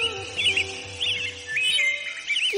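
A cartoon pigeon screams in a series of shrill, chirping cries that come in repeated bursts over a steady musical background, with no talking.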